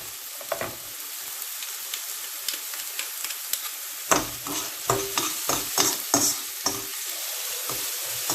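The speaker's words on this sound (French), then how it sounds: "Dans 2 cuillères de l'huile neutre, huile de table. Je mets de l'ail écrasé." Crushed garlic frying in neutral table oil, sizzling steadily in the pan while a utensil stirs it, with a run of distinct scraping stirs in the second half; close and clear, no talk.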